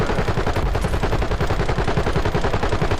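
Sustained, loud gunfire in the video game Warzone: a dense, continuous stream of rapid shots and overlapping bursts filling the whole stretch, with no talk.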